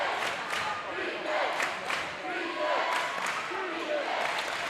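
A high school boys basketball crowd cheers after a three-pointer in a sub-state semifinal gym, a broad roar with shouts and scattered clapping rising and falling under an announcer's voice.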